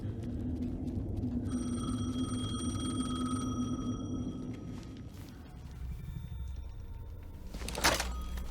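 A telephone rings in Alan Wake 2, a repeating electronic trill heard up close over a low ambient rumble, then fading out before a brief rustling sound.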